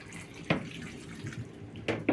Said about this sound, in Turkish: Şimdi ben bunun üzerine su ilave ediyorum